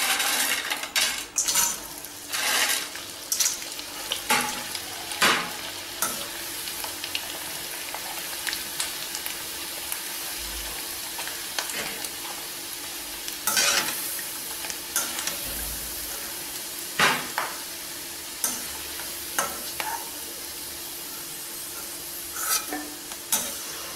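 Sun-dried vathal, or vadam, frying in a pan: a continuous sizzle punctuated by repeated sharp scrapes and metallic clinks of a ladle against the pan, nearby and without speech.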